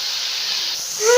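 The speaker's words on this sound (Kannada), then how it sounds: "ಈ ಕಡೆ ಒಗ್ಗರಣೆಗೆ ಇಟ್ಟಿದ್ವಲ್ಲ ಅದಕ್ಕೆ ಟೊಮೆಟೊನ ಸೇರಿಸಿ" A loud, steady hiss of hot tempering oil fills the clip, swelling at the end as chopped tomatoes are added.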